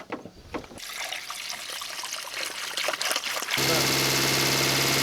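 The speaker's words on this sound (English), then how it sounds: "I didn't like the way the water was rising then, so I've turned it off before it sort of like bubbles over." Water runs from a tap during a Fiat Uno Turbo restoration, a steady close trickle with some clatter at first, then growing into a louder, fuller rush near the end.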